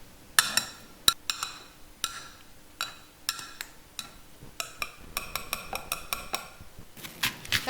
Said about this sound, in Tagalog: Gagamit tayo ng potato smashers o di kaya tinidor at imamash natin yung ating patatas